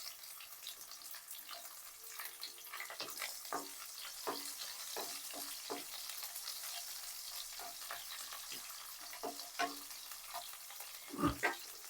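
Sliced onions fry in a pan for a Rayalaseema-style tamarind-leaf dal, giving a continuous soft sizzle broken by scraping clicks of stirring, steady and close throughout.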